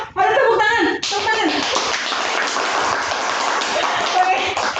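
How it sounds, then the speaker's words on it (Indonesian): Hands clapping in an Indonesian podcast studio, a burst of applause from a small group that is dense and steady after a brief opening moment with voices, close and fairly loud. "ada tepuk tangan."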